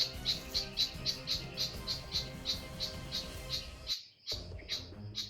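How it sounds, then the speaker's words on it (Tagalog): Repeated sharp bird chirps sound outdoors at a steady rhythm, about a dozen calls over a few seconds, fairly close and clear over low rustling background, with a brief silent gap near the end. "Para may sinasabi yung ibon."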